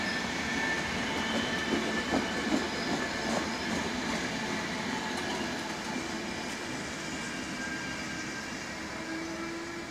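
A lengthened Intercity passenger train passes, a steady rumble of wheels with rhythmic clickety-clack over rail joints and a faint squeal, heard from a moderate distance and slowly fading.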